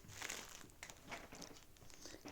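Parcel packaging crinkling and crunching as it is opened at home, soft irregular rustles and crackles close by, fairly quiet, in short uneven bursts with no talk.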